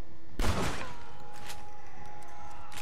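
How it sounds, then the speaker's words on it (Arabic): A single loud gunshot in Red Dead Redemption: Undead Nightmare, a sharp close blast followed by a fading ringing tail and quiet ambience. "نجيب اثنين هيتشوت كذا سريع سريع"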